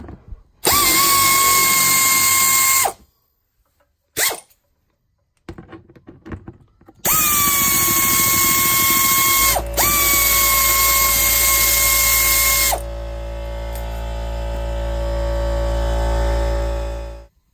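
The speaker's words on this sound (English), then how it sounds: "use 8mm socket and remove all of those little screws there." A power tool with an 8mm socket whines in long high-pitched bursts, backing out small screws on a BMW F30 328i xDrive, separated by short pauses and a quieter lower motor hum at the end, loud and close with no talking.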